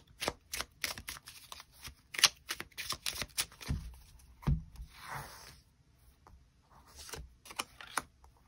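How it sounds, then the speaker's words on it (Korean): Tarot cards are shuffled and drawn by hand, giving a string of crisp riffling flicks and soft slaps in irregular bursts, close and quiet with no talk. "조언의 카드가 무엇이 있을지 추가 카드 뽑아보도록 하겠습니다"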